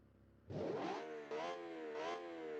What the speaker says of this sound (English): That's a high revving sounding engine.